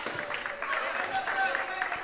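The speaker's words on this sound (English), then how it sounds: "Drawing applause from the crowd here at the Kettle on a good effort for Seth Duke." A crowd claps faintly at a National Park College vs. Central Baptist College basketball game in the Kettle, with thin, scattered applause sitting low under a commentator's voice.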